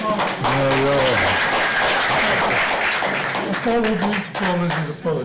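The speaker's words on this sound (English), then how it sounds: "You come to applause." Applause from a literature festival audience in London swells into a dense, full wash of clapping between stretches of someone speaking at the start and end.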